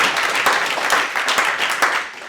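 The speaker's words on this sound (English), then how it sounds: "Applause now, please." An audience at a college all-campus meeting claps together in sustained, fairly loud applause that continues steadily throughout.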